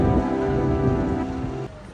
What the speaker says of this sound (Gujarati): વરસાદ આવશે? એ થોડો થોડો આવે છે, બહુ આવશે.